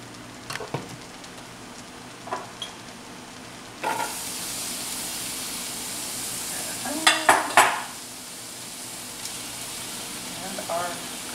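Hamburger meat sizzles in an oiled pan, a bright steady frying hiss that jumps up partway through, with a few metal clanks of utensil against the pan and talk over it.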